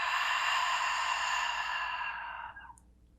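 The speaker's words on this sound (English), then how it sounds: "And then open mouth, exhale it all out." A long, soft breath exhaled out through an open mouth during a guided meditation, breathy and steady for about two and a half seconds before fading into quiet.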